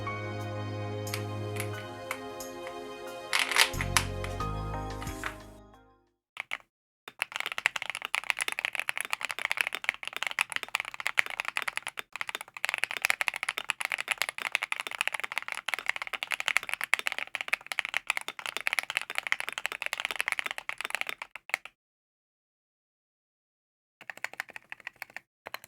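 Continuous fast typing on a metal-cased mechanical keyboard, dense clicky keystrokes close up, with a brief pause partway through and a short burst of keys at the end; no talking.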